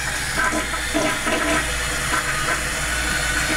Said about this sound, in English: Toilet, we'll go ahead and flush that quick.